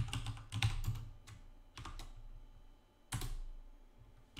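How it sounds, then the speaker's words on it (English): Keys on a computer keyboard are tapped in short bursts with pauses between, as a password is typed for a PowerShell remoting login; close, quiet clicks with no talk. "Type in the password"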